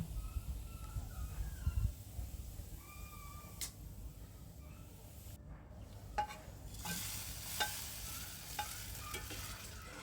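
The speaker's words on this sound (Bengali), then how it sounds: "ডালটা ফোড়ন দিয়ে দেবো" Dal tempered with spices in hot oil: a low, steady crackle and hiss under light clinks of a utensil, growing into a brighter sizzle toward the end, with no speech.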